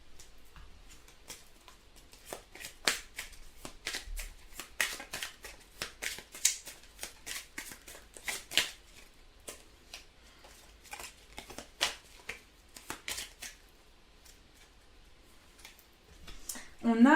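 Tarot cards are shuffled by hand in a quiet room, a long run of soft, rapid papery riffles and slaps in irregular bursts, close but faint, with occasional light handling noises.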